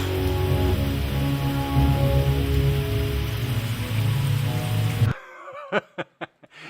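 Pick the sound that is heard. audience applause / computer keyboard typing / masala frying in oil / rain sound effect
rain sound effect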